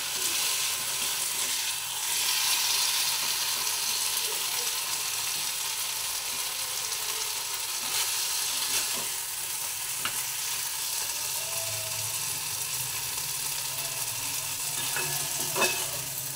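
Chim (flat bean) chorchori curry sizzling and frying in a pan on a gas stove, with steady stirring scrapes throughout, close and continuous, no talking.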